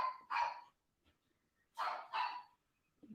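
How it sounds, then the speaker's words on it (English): Dogs bark in short bursts, a single bark followed after a pause by a pair of quick barks, fairly close and alone without talk. "Dogs barking."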